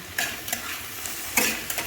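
Food frying in a pan in a home kitchen while a spoon stirs it, a quiet sizzle with several crisp scraping strokes, the loudest near the middle, and no voices.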